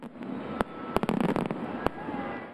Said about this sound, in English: The 4th of July fireworks spectacular at LA Memorial Coliseum ended with a bang